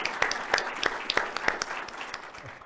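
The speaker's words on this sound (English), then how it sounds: "One more big round of applause." Applause from an awards ceremony audience honoring nominees and winners, a fairly quiet spread of hand claps with a few sharper individual claps standing out, fading gradually over a few seconds.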